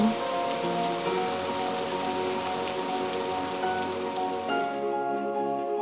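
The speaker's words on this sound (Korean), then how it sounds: "비가 와도" Steady rain patters on a surface in a dense, continuous hiss for several seconds under soft, sustained musical notes, then cuts off, leaving the music alone.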